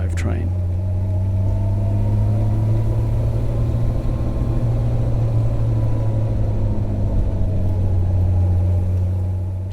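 A 1963 Jaguar E-Type Series 1, freshly rebuilt, drives steadily with a loud, constant low engine drone and road rumble throughout, with no voices.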